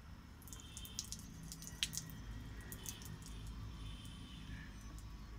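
Water running and dripping off a treated rear view mirror on a Mahindra Marazzo, a wet trickle with scattered drips over a low steady background hum.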